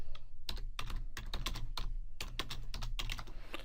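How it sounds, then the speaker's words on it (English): Rapid keystrokes on a computer keyboard as a message is typed, a close, continuous run of crisp clicks in uneven bursts with no one talking. "And then we can type a message"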